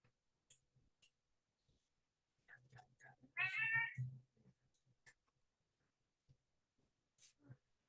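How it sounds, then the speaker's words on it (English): A cat meows once, fairly clearly, amid a quiet room with scattered soft clicks and faint shuffling noises. "the meowing's getting louder."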